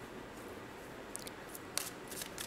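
Tarot cards are drawn and handled during a reading, giving a few soft, brief snaps and slides of card stock against a quiet, hissy background.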